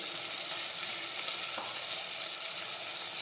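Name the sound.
vegetables with green garlic and spices sautéing in pan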